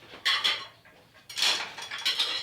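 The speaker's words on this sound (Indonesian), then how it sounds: "Delok nih, iki noto piring guys, nang kene." Plates being set into a rack, heard as several bright clinks and clatters of crockery in short bursts, close and moderately loud with brief pauses between, no talking.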